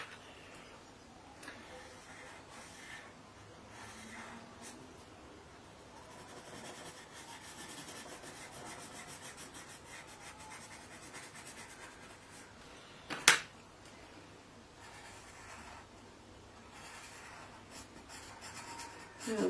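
Pencil scribbling stripes on paper for a decorative Easter wreath, a quiet continuous scratching and rubbing with quick back-and-forth strokes and one sharp tap near the end.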